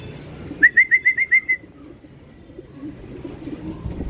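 A racing pigeon comes in to its loft during a training arrival, giving a quick run of about six evenly spaced, clear calls, then quiet outdoor ambience with no talk.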